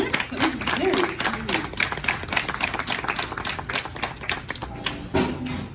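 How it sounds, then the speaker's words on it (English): A small crowd at a glassmaking demonstration in a museum claps briefly, the applause fairly light and uneven, with voices heard over and around the clapping. "Can we get a round of applause for Alex?"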